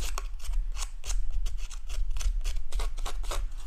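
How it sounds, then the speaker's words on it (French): Scissors snip repeatedly through aged, distressed card paper, a close, crisp run of quick cuts and rasping scrapes in an irregular steady rhythm, with no voices. "dernière petite étape que j'ai fait avec mes ciseaux"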